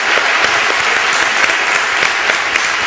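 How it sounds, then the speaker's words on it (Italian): Applause from an audience, a loud, dense, steady clapping that fills the few seconds without pause. "Facciamo un applauso a Michele Taurino"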